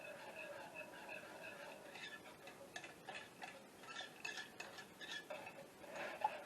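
Gravy stirred frequently in a pan, with soft repeated scraping and light metallic ticks of a utensil against the pan, quiet and fairly steady.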